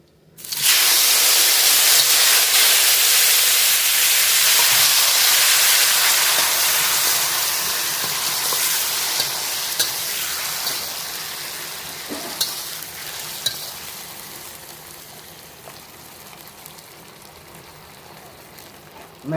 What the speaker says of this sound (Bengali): ম্যারিনেট করা মাংসটা দিয়ে দিচ্ছি।